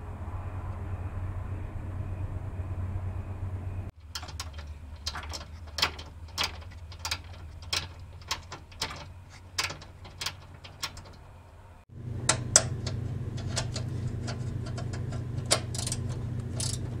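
A ratchet removes a 10mm nut from a bracket on a 2002 Honda Odyssey, with a series of crisp, evenly spaced clicks in the middle stretch against a low background hum, close and fairly quiet.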